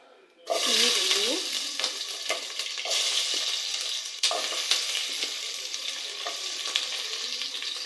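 Onions, mint and chilies hit hot oil for chicken sambar, giving a sudden loud sizzle that settles into steady frying crackle with occasional stirring scrapes, close by, for the rest of the clip.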